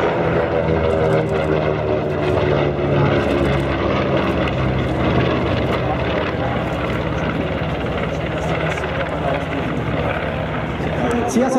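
Five aircraft of the Flying Bulls fly past in formation at the Airpower 2016 airshow in Zeltweg, a loud continuous propeller and engine roar that shifts in pitch as they pass, under a German commentator's voice.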